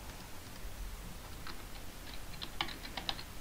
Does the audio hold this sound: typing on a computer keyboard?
yes